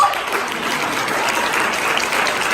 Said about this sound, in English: If you clap hard enough, Hansel will live.